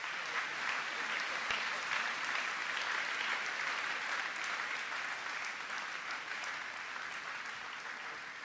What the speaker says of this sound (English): Give these gentlemen a round of applause.